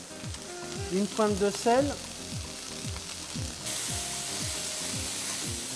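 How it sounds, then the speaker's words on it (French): Onions and zucchini sauté over high heat in olive oil in a pan, sizzling steadily with clinking stirs and a brief pepper-mill ratchet, while a voice speaks briefly over the cooking. "On fait sauter à feu vif les oignons, les courgettes avec un tour de poivre du moulin"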